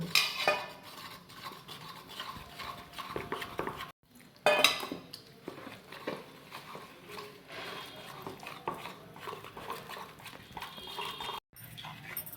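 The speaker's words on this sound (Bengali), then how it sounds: "শুকনো ভালো করে নুন আর ময়দাটাকে ভালো করে মিশিয়ে নিচ্ছি।" Flour, salt and water being stirred into a batter in a bowl for Bengali Gokul pithe, a steady scraping and stirring sound that continues throughout, with brief pauses and a sharper clink.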